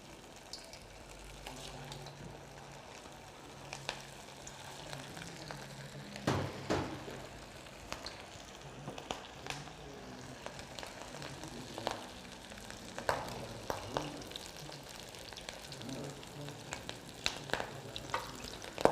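Antioquian arepas fry in hot oil in a pan with a continuous close sizzle and crackle, plus occasional sharper pops and stirring clatters and no talk.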